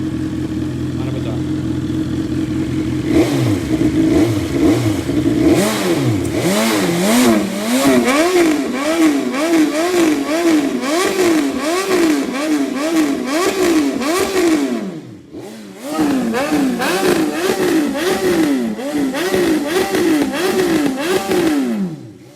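A BMW S1000XR motorcycle engine revs hard through its exhaust. It rises and falls in repeated loud sweeps, cuts off briefly, then climbs again in more revs.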